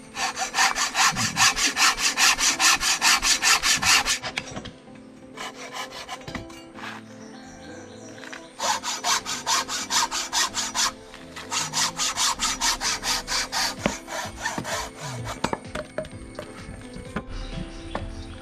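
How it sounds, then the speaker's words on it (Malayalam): Hand saw cutting through a wooden branch for a homemade chair, with steady rhythmic back-and-forth strokes in three bursts separated by short pauses, close and loud. "ഈ മുകളോട്ട് പോകുന്ന കമ്പ് നമ്മൾ കട്ട് ചെയ്ത് മാറ്റുകയാണ്."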